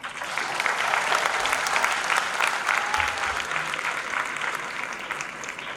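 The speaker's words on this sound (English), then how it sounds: "They surely deserve a thunderous applause." Sustained applause from a crowd at a school annual day function, dense clapping at an even level throughout with no pauses.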